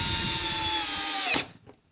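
Makita XPH14 cordless hammer drill running in drill mode at speed 1, a loud, steady high whine for over a second that then winds down sharply and stops, leaving near silence.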